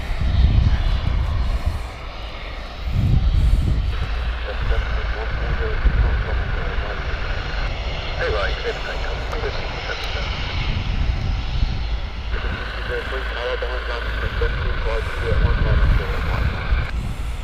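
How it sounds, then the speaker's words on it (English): An aging 25-year-old airliner takes off at Gatwick Airport, its engines delivering a loud, sustained roar with a deep rumble and a shifting whine. Wind buffets the microphone, and voices talk underneath. "What a noise they will make on the takeoff."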